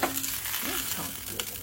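Onion stir-fried in ghee: a soft, steady sizzle with a few scraping stirs of the spatula partway through, heard close and alone.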